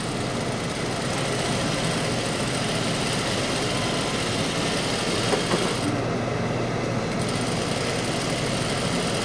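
A sewing machine stitches the curved seam of a pair of pants, a steady close mechanical whir and hum that runs continuously and pauses briefly near the end.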